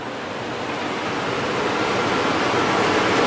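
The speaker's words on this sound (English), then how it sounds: "I've got both ACs on" Both roof air conditioners running together inside a 2005-2006 Coachmen Miranda 290KS Class A motorhome, a steady, even broadband whoosh that slowly grows a bit louder, with no voices.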